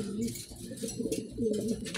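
A pigeon coos close by, soft repeated low throaty calls in a steady rhythm, with faint background hiss.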